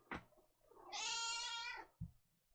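A house cat lets out one sustained meow close by, bracketed by two short soft thumps or bumps, quiet overall with no voices.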